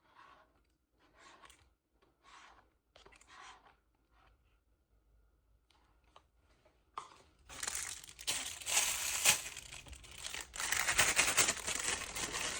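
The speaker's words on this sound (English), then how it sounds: "Now I'm going to put it in my piping bag." Epoxy resin handled with a plastic piping bag: a few quiet separate crinkles, then loud continuous rustling and crumpling of plastic close up for the last several seconds.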